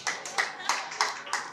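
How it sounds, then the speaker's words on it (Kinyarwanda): Church congregation clapping in a steady rhythm, about five sharp claps in a row, close and moderately loud, with a faint voice underneath. "Mbega twakomeye Imana amashyi menshi mu izina rya Yesu."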